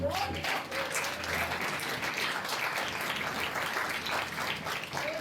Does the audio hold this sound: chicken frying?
no